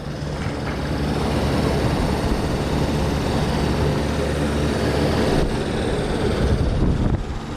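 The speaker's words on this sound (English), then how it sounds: "It's got like a high-pitched whine to it." AC condenser fan motor running on a no-cool service call, a steady loud whirring roar with a high-pitched whine riding on top, continuous and close, with no talking.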